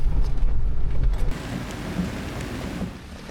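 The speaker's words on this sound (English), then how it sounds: "it's starting to rain again, so another night in the downpour is ahead of us." Steady rain pours down at night in a Colombian rainforest, with a heavy low rumble of thunder at first that fades, leaving the hiss of rainfall.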